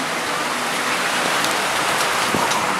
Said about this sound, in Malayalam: ഫുൾ കാറ്റാണ്, എറിച്ചിലടിക്കുന്നുണ്ട്. കാറ്റും മഴയും